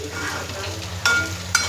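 Peanuts roast in a pan for a peanut chutney, giving a soft steady sizzle with scraping stirs and two sharp clinks of a utensil against the metal pan.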